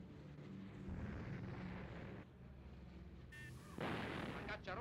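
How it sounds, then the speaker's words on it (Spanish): Anti-aircraft artillery batteries firing during the Spanish Civil War, heard as dense, sustained rumbling bursts of gunfire with a louder, sharper stretch near the end, under a faint narrating voice. "Las baterías antiaéreas entran inmediatamente en acción."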